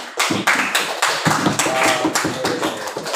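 A class of students in a classroom claps together in a rhythmic pattern, a quick series of sharp, loud, closely spaced hand claps.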